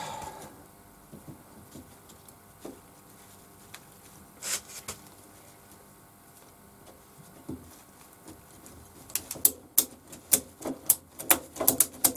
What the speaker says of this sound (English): And then apply a ratchet strap.